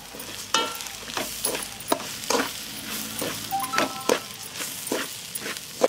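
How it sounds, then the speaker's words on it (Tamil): Rice rava and onions roasting in oil in a pan, a soft crackling sizzle punctuated by repeated scraping stirs of a spoon at an uneven rhythm, close by with no talking. "இப்போ அரிசியை போட்டு நல்லா இந்த ரவாவை போட்டு நல்லா வறுத்து எடுத்துக்கணும்"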